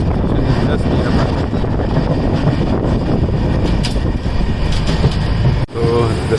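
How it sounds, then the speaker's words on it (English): A train rumbles out of Mavelikara railway station in Kerala, a loud, continuous roar and rattle of wheels close by, with wind buffeting the microphone throughout. "It's a train leaving."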